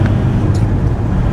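Riding inside a tow car, a steady low engine and road rumble fills the cabin throughout, close and constant with no talk.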